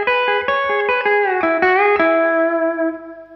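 A short pedal steel guitar lick played with string blocking gives distinct, clean picked notes in a quick sequence, each attack separated, with a slight bend before the final note rings out and fades.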